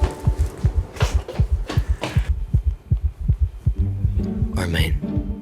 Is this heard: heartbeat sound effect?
yes